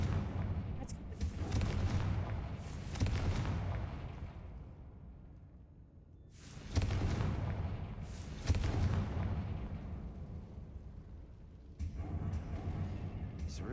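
In a Harry Potter video game, a Confringo blasting spell sets off heavy booming explosions, several deep rumbling blasts that swell and decay across the scene, each one loud and close, with voices in places.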